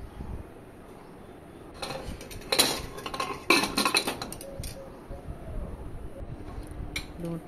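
Boiled figs, cooked with turmeric and salt, tipped from a pot onto a plate, with scattered metallic clinks and scraping bursts of utensil against cookware, loudest in the middle, alone without talk.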